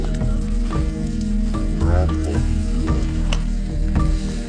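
Porcupine meat roasts over a fiercely burning wood fire in the jungle, its skin charring black as it sizzles and crackles steadily, with sharp pops scattered over a low, continuous hum.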